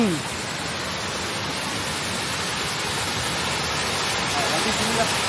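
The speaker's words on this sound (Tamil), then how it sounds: "அங்கே நல்ல ஒரு வாட்டர் ஃபால் இருக்குது" A waterfall near a resort in Taiping roars with a steady, dense rush of falling water. The sound is continuous and moderately loud throughout, with no breaks.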